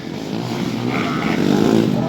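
A Honda TMX 155 motorcycle races bar to bar in a local enduro final in Southern Leyte, its engine droning steadily and building slightly toward the end, with a commentator's voice over it.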